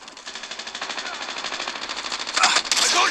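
Rapid automatic gunfire in the mobile shooter Call of Duty Mobile, a fast rhythmic burst that grows louder near the end.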